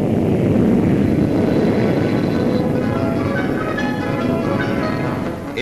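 A 1953 French SNCASE SE.5000 Baroudeur prototype jet plane takes off from an ordinary field, giving a loud sustained roar that holds steady throughout with a faint fading toward the end, and no voices.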